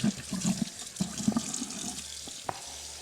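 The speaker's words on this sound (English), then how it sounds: "turn the water on, make sure it's cold water." Cold water runs from a kitchen tap while a moose heart is rinsed, a steady close splashing stream with a few sharper knocks and clatters scattered through it.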